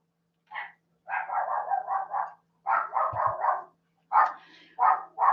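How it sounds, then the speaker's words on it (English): A dog barks in several quick bursts of rapid woofs, separated by short pauses, sounding somewhat distant with a faint low hum underneath. "There's the other dog outside is barking."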